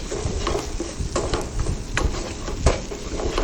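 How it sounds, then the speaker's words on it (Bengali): Whole cloves, cardamom, cinnamon and bay leaves fry in a pan for biryani, giving a close, steady sizzle broken by scraping stirs and spoon taps on the pot, with no voices. "ভাজতে থাকবো।"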